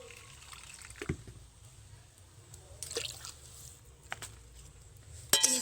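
Water is poured into a bowl of sugar for syrup, heard as a few faint, scattered splashes and drips in a quiet kitchen rather than a steady stream.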